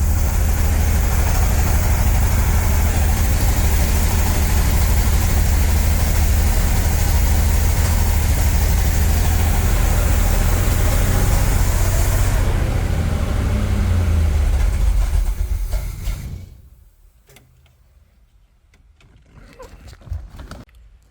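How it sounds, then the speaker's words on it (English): A Corvette engine idles steadily and loud after its first start, with a deep continuous rumble and rough low pulsing for about fifteen seconds before it cuts out, leaving near silence and a faint stir at the end. "Okay, I adjusted the idle. Let's see if we can get a little better idling out of her."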